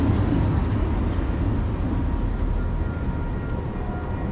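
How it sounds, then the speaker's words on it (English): A train rumbles past in a small town, a steady, loud low-frequency roar with rattling that holds throughout without any voices. "Man, that train was moving on"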